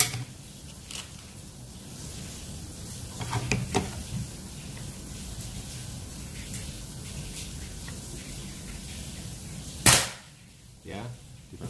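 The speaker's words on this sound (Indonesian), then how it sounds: "Oke, kita akan coba mulai dengan tembakan pertama dulu." A single sharp shot from a Predator Monel Ataman folding PCP air rifle at 4000 psi, a sudden crack near the end after a stretch of quiet background noise and faint handling sounds.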